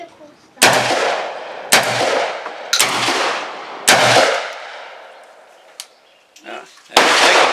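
A shotgun fitted with a CVLIFE BearPower FFP scope fires five loud, close blasts spaced about a second apart, each with a booming tail, followed by a short sharp report near the end.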